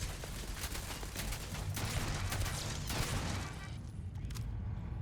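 Automated turrets in the video game Starfield fire dense, continuous volleys of rapid gunfire that overlap into a steady loud barrage for about five seconds.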